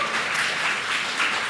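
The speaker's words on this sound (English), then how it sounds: "Can we give them a round of applause as well, please?" Audience applause at a student union question-time event, a brief, dense burst of steady clapping from a crowd with no voices.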